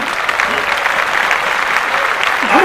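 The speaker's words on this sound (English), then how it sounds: "Let's clap that up." A crowd breaks into applause that carries on steadily throughout, a dense patter of clapping heard alone.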